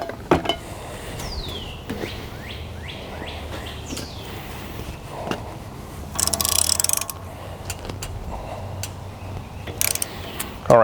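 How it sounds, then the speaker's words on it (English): Ratchet wrench tightening the crank bolt on a 6.9 IDI diesel engine, a series of distinct close clicking pulls with pauses between, plus a few louder metallic clanks and rattles. "right now I'm still just tightening the bolt. I'm not getting any movement."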